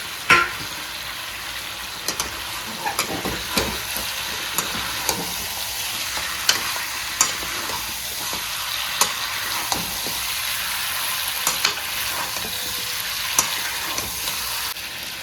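Potatoes sizzle steadily in a hot pan, with occasional scrapes and clicks of stirring over a constant frying hiss.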